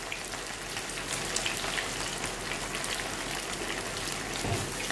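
Cauliflower frying in hot oil in a kadhai, a dense, even crackling sizzle like steady rain, close and continuous throughout with no talk.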